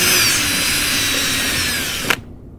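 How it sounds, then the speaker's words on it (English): A power tool grinds steadily to enlarge a round hole in a car bumper while fitting a JDM quick-release fastener kit, a continuous loud close-up whine that cuts off abruptly near the end, followed by silence. "So now I took over, try to grind this circle bigger for the hole."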